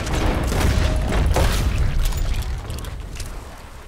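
Gunfire rings out in the video game Red Dead Redemption 2, a loud burst of booming shots and crackling reports that rumble on and slowly fade over a few seconds.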